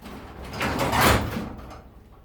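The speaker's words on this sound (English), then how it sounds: "I gotta close the door, it's too bright." A garage door rolls shut in one smooth, rushing slide that swells and fades over about two seconds, close by with no talk.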